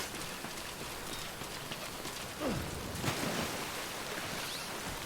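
Steady rain hisses down in Death Stranding, a dense even patter at moderate volume, joined by a few brief swishing movement sounds midway, with no voices.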